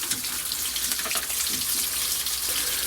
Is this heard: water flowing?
yes